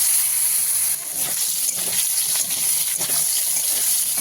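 Cut potatoes dropped into hot oil seasoned with bay leaf, dried chilli and cumin, giving a loud, steady sizzling hiss that fills the whole stretch without pause.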